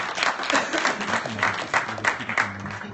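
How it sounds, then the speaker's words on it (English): A room full of people applauding at a tech meetup talk on Kubernetes networking, a steady round of clapping that stays even for its whole length. "So big old round of applause for Ed"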